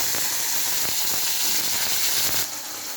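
Okra fries in slightly darkened oil in a pan for a yogurt curry, making a steady, close, crackling sizzle with small pops that eases off slightly near the end, with no voices.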